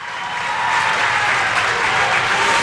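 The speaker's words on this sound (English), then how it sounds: "Alex Grant just trying to get the crowd to make some noise." A high school boys' basketball crowd at a Class A state championship game in Maine, Nokomis against Falmouth, roars with sustained applause and cheering that swells steadily and fills the gym, with no clear talk above it.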